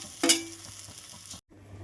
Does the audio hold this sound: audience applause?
no